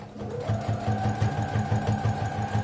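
A sewing machine stitches along the edge of a placemat to finish it, making a steady rapid mechanical chatter with an even motor hum throughout, close and fairly loud.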